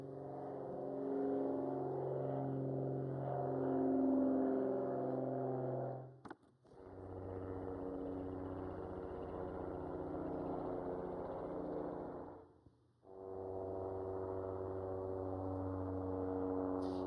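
Recorded airplane flyovers play back at a conference forum, a steady droning engine roar with layered tonal hum, broken by two brief cuts between passes, with no talk over it.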